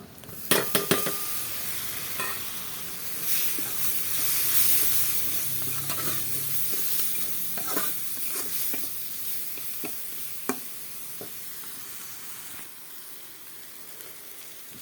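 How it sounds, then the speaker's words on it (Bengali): Prawns frying with turmeric in a pan sizzle and hiss up close, starting with a few sharp clatters and a louder burst of frying, then settling into a softer steady sizzle with occasional utensil knocks; no talking. "এখন এর মধ্যে এই যে চিংড়ি মাছটা দিয়ে দেব।"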